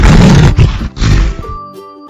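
A lion roars loudly and close, one deep, rough roar broken by short breaths and trailing off into a fainter growl near the end.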